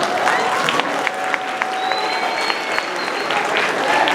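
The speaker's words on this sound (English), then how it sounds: "Everybody, stand up and give our guest speaker a big round of applause." An audience at a house meeting claps for a guest speaker, a dense, even wash of many hands that stays loud and steady throughout, with faint crowd voices mixed in.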